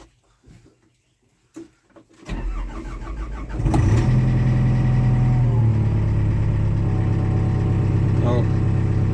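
An old abandoned Caterpillar machine's engine cranks and fires, then settles into a loud, steady, rumbling idle. Quiet clicks and handling noises come first, and the engine runs on alone to the end.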